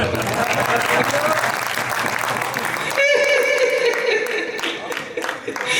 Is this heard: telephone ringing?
no